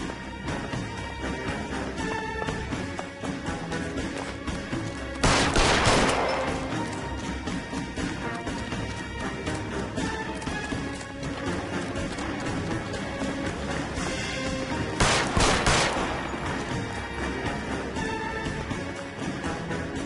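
Gunfire in the crime video game L.A. Noire cracks out in two loud bursts over a dense, continuous bed of game music and ambience.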